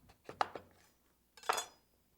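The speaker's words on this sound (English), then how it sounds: "you want to cut off the end and then use your knife, go straight down" A knife cuts through an acorn squash on a board: a few faint, close clicks and knocks, then a brief crunchy scrape as the blade pushes straight down through the firm flesh.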